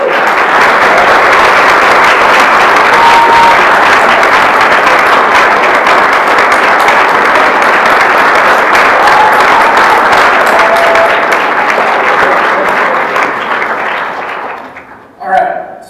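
A seminar audience gives a long round of applause at a university entrepreneurship talk. The clapping is dense and steady, then thins and fades near the end.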